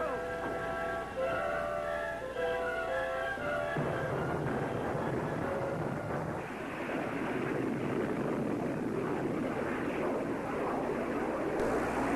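Aircraft taking off: a loud, steady, broad roar that swells after a few seconds of music and holds strongly to the end.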